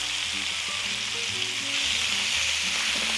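Chopped vegetables sizzle and fry steadily in a pot with salt and pepper for a one-pot orzo jambalaya, a continuous close crackling hiss with some stirring and no talk.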